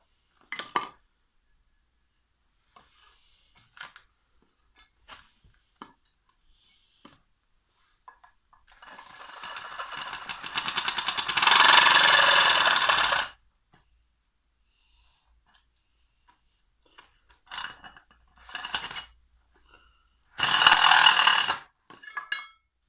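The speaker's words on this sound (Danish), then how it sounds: "Så vi skal lige have boret lidt mere." Drilling into the terminal box of a Sabroe HCA 33 refrigeration compressor, enlarging a hole for a cable gland: one sustained close grinding burst mid-clip, a shorter burst near the end, with scattered clicks and handling knocks between.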